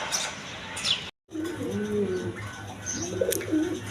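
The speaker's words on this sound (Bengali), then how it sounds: "দর্শকবৃন্দ প্রথমে এক পেয়ার ব্লু শার্টিং কবুতর দিয়ে শুরু করতেছি আপনাদের মাঝে কবুতরগুলো দেখেন" A pair of blue shirting pigeons coo in low rolling bursts close by, with a brief dropout early and faint chirps in the background.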